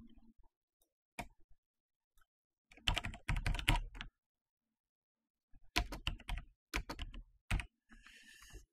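Fingers tap a computer keyboard in two short bursts of quick, close, crisp key clicks separated by a quiet pause, with a few isolated keystrokes before and after.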